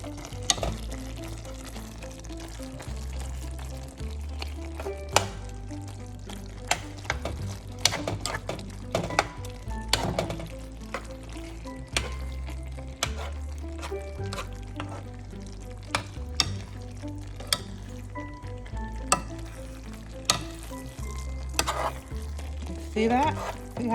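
Chicken and pasta sizzle in a pan with lobster bisque sauce while being stirred, giving steady frying hiss with scraping and clinks of the utensil against the pan, under a musical backing and occasional talk.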